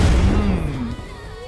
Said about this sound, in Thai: ว้าวว้าวระเบิดระเบิด